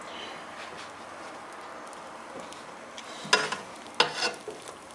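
Beef, onion and cheese wraps fry in a pan with a steady low sizzle, punctuated by a few brief louder crackles and scraping clatters near the end.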